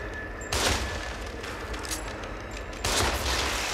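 Bursts of rapid gunfire crackle in a noisy, busy soundscape from the video game The Evil Within, with two louder volleys standing out among continuous distant shooting.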